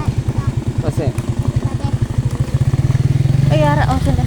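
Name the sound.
motorcycle engine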